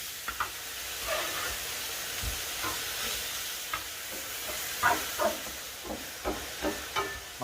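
Beef browns in a cast iron skillet with a steady sizzle and hiss, broken now and then by soft stirring and scraping knocks, close up and without speech.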